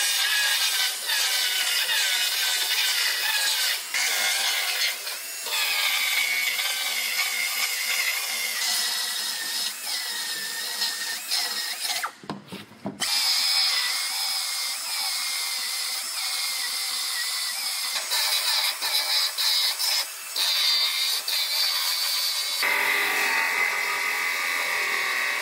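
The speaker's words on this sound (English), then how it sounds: "So I'm gonna go ahead and start cutting this outer panel off." A power tool cuts through an aluminum outer panel of a car body, a loud continuous high-pitched whining grind that runs almost nonstop, with one brief pause midway.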